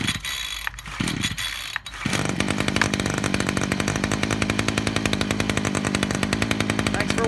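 A Mac Allister M4MTP25 petrol strimmer multi tool, primed six times with the choke on, is pulled twice before its small two-stroke engine catches and runs steadily with a loud, rapid buzzing rattle close by.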